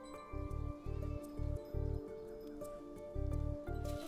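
Ram kept for a village goddess festival, bleating in short repeated low calls in an uneven rhythm, fairly close, with a faint background hum and no speech.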